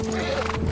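A horse in a video game gives a short neigh, brief and fairly loud over a busy game soundscape.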